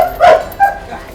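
Dogs on a small pack walk give two short, close yipping barks, a higher bark followed by a briefer one, against a quiet outdoor background.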